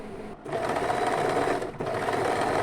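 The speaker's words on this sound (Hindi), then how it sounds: "अब इस पट्टी को बीच में से एक बार फोल्ड करके ऐसे सिल लेनी है।" A sewing machine runs steadily, stitching a folded fabric strip with a fast, even whir, close up, with two brief pauses between bursts of stitching.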